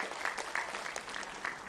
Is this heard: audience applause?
yes